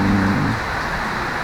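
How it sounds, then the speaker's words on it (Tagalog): Steady rain falls in a broad, even hiss, loud and close, with a brief low hum at the start and no voices. "Pasensya na sa ulan mga kabady, maulan kasi."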